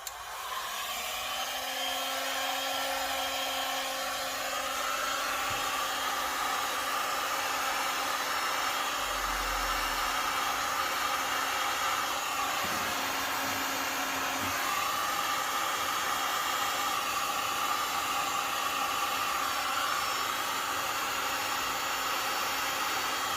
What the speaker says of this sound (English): we're going to use a heat gun